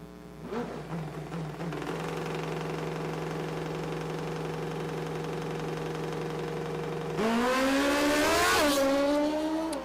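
A drag racing car making a full pull: a loud, steady engine drone that holds for several seconds, then jumps into a sharp, rising high-rev roar near the end, with no talking.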